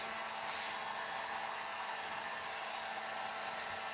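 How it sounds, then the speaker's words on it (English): A heat gun blows steadily and continuously, drying contact cement on foam costume parts; an even, close whooshing roar holds throughout with no talk. "I'm using the heat gun to dry up the contact cement on these guys"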